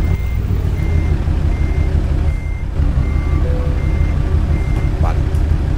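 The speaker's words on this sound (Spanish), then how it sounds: "Tiene tanta potencia este motor con este sonido, que nada que aceleras un poquito." A heavy truck engine in Euro Truck Simulator, a loud steady low rumble that fills the whole stretch, with a faint periodic reversing beep on top and someone speaking over it.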